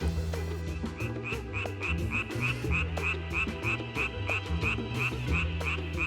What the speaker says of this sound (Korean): 많은 분들이 개구리는 그냥 개굴개굴 운다라고 생각을 많이 하시는데요